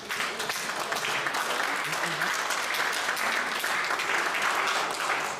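A congregation at a Bible college conference claps together for the Lord, a thick, sustained round of hand clapping that holds a full, even level throughout, with faint voices mixed in beneath it.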